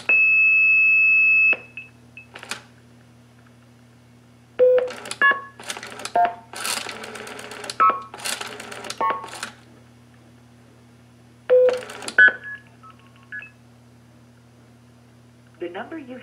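A pulse-dial-to-DTMF converter in blue box mode sends several bursts of telephone dialing tones and beeps with pauses between them. A steady tone opens the run, and a low hum persists throughout.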